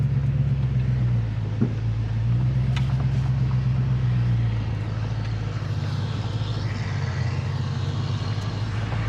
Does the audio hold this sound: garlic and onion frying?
no